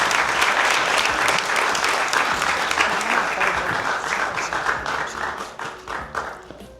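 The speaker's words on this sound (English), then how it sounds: "Big round of applause to her." Ceremony audience applauding an award recipient, loud close clapping from a crowd that holds strong and then gradually thins and fades toward the end.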